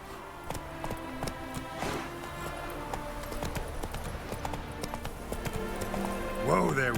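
Roach the horse galloping in The Witcher 3, steady rhythmic hoofbeats clip-clopping under a layered game soundscape, with a brief voice-like sound near the end.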